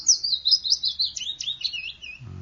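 A single melodic bird call, sweet and high-pitched, chirps in a quick run of notes that starts high and slides lower over about two seconds, clear against a quiet background as played on a radio broadcast.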